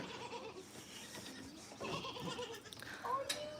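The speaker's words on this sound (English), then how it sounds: "Hello, little goat." A small goat at an exotic animal rescue gives a short, wavering bleat near the end, close by, over a busy background of other animals and faint talk.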